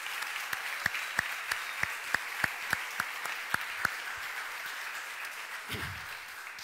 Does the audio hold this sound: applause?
yes